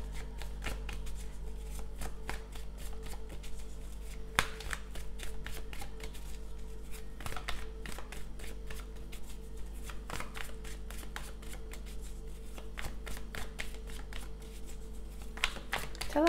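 A textured tarot deck is shuffled continuously, giving rapid, close, crisp riffling card flutters with a steady rhythm throughout and a low constant hum underneath.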